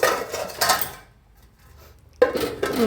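A metal lid clatters onto a pot of okra cooking on the stove, with two quick clinks followed by a pause, then another sharp clank as the lid settles.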